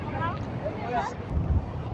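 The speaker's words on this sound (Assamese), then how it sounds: "এই ভিউ পইণ্টত বহুত বতাহ দি আছে, বহুত বতাহ" Strong wind blows steadily across a mountain viewpoint in Sikkim, a low continuous rumble of gusts buffeting the microphone throughout while a person talks over it.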